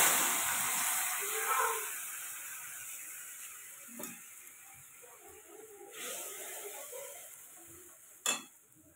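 Ground mustard and chili paste with cumin poured into a hot pan for a pabda fish curry: a soft sizzle and hiss, then quiet scraping and stirring, with a few sharp clacks of a utensil against the pan.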